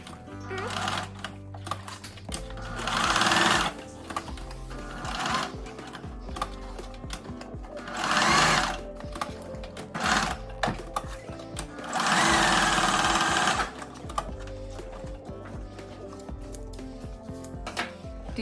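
A domestic sewing machine stitches the seam of palazzo pants, running in several bursts of rapid mechanical whirring and clatter separated by pauses with small handling noises, close and clear.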